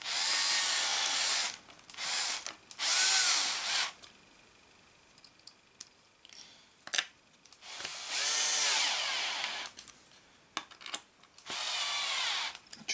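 A power screwdriver driving screws into the soft plastic chassis of a Pro-Line Pro-Fusion SC 4x4 model, several whirring bursts of a second or two separated by quiet handling clicks, very close.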